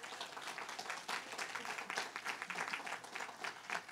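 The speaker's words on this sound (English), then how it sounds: "Can we give them another round of applause?" An audience at a community summit panel claps in a steady, dense patter of applause, faint and distant.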